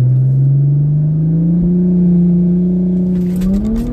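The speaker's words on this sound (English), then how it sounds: "Wheel spin happens." Stage 3 Audi S5 Sportback on E85 launching at full boost with wheel spin, a loud close engine roar rising steadily in pitch, ending with a brief crackle.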